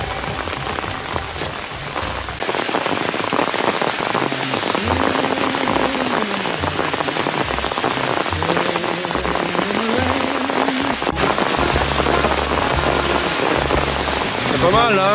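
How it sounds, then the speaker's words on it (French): Rain pours onto a surface during a bivouac in the Cévennes, Massif de l'Aigoual, a dense steady patter of drops throughout, with voices talking over it and some clattering. "On pensait qu'il y avait que 4 gouttes de pluie"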